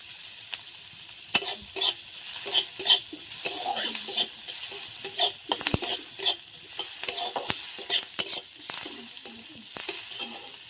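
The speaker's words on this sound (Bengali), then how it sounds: "দিয়ে দেব অল্প করে পেঁয়াজ কুচি।" Chopped onion stir-frying for veg momo filling, a steady sizzle with repeated scraping and tapping of a spatula against the pan, close and continuous, no talk.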